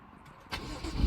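A 2017 BMW M2 3.0-litre with manual gearbox starts up: a quiet lead-in, then the starter catches about halfway through and the engine fires into a loud, building idle to the end.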